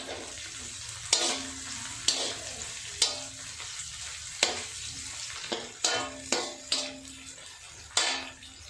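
Onions, cloves and black pepper fry in hot oil with a steady sizzle, broken by repeated scraping stirs of a spoon against the pan, each stroke sharp and close.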